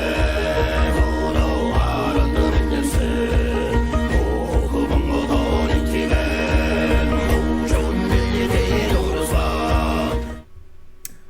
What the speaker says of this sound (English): this should be Mongolia, because it sounds like throat singing